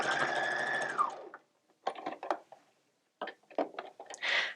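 A sewing machine stitches fabric in a steady close run, then pauses and resumes in several short bursts of stitching separated by quiet gaps.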